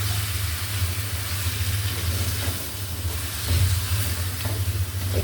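Chopped carrots and papaya sizzling in hot spice paste in a steel wok, a steady loud frying hiss with stirring scrapes throughout and no talking.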